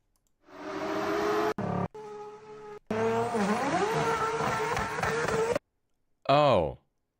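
A BMW N55 engine revs hard against its rev limiter, rising, holding and cutting in repeated bursts with brief silent gaps between them, loud and close.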